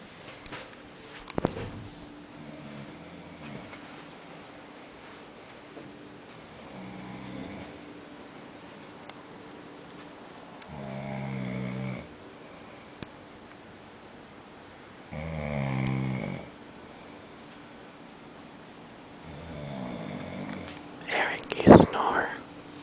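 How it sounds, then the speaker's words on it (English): A man snores while asleep in a quiet shared room, several slow, rasping breaths spaced seconds apart at low to moderate volume, with soft whispering in between. "He doesn't believe he snores."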